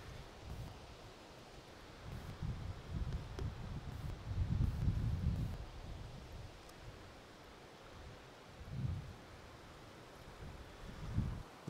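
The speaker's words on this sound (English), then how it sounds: "The wind is blowing all these leaves off the trees." Outdoors in autumn, wind gusts through trees and blows leaves off them, a soft low rushing and buffeting that swells and fades in waves, with faint rustling under the gusts.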